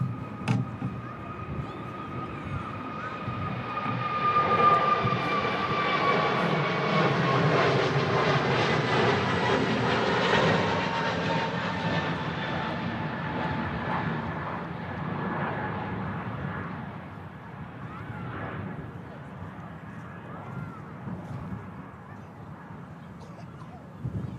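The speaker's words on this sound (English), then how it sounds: "And off goes our EasyJet Neo." An EasyJet A320neo-family airliner takes off at Manchester Airport in strong crosswinds, its engine roar swelling to a loud peak mid-clip and then fading into the distance as it climbs away, with light wind noise throughout.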